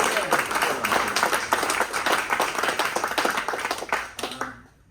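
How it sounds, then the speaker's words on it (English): Audience applause in a room at David Cameron's address to the Coalition for Conservation, a steady patter of many clapping hands for nearly five seconds, then a quick fade into quiet. "let's give them a round of applause"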